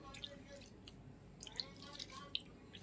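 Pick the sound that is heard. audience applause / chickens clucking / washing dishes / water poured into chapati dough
water poured into chapati dough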